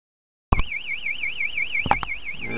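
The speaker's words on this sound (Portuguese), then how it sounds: "É a terceira vez o meu alarme aqui, ele pitou." A motorcycle alarm goes off beside a highway, starting abruptly after silence with a loud warbling electronic siren that sweeps up and down continuously, punctuated by a couple of sharp clicks.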